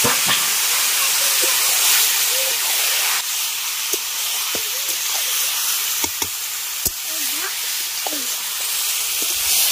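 Bottle gourd hits hot oil with fried garlic and dried chilli, giving a loud, steady close-up sizzle that fills the whole span, with a few faint knocks and clicks beneath it.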